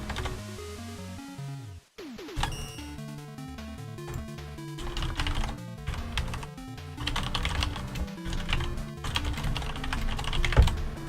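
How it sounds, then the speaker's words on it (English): Fingers type on a computer keyboard in a steady clatter of rapid, uneven keystrokes, close and fairly loud, with a brief pause near the start. "Okay, typing in. Tap, tap, tap."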